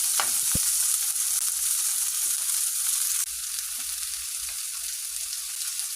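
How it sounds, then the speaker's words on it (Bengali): Chopped onions frying in a pan after a hilsa fish was cooked and set aside: a continuous bright sizzle that drops slightly partway through, with a sharp utensil tap near the start. "এখন আমি মাছটা সাইডে রেখে দিয়ে দিলাম পেঁয়াজ কুচি"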